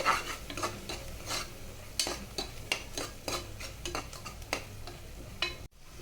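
Ginger-garlic paste and mint leaves sauté in a pan for a chickpea gravy, with a soft sizzle under repeated scraping strokes of a spoon against the pan, close and fairly quiet, no talking.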